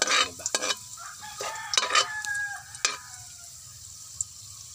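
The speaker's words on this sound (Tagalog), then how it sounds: "Pa-brown muna natin ang ating bawang sibuyas para maganda po ang ating pong pagkagisa" Garlic and onion sautéing in a pan, a quiet bed of sizzling frying punctuated by several sharp scraping stirs of a utensil against the pan, with a rooster crowing faintly in the background.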